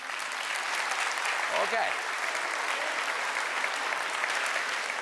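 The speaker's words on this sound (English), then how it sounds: "Please applaud." Steady applause from a live stand-up comedy audience, dense and continuous, with a brief spoken word from the performer partway through.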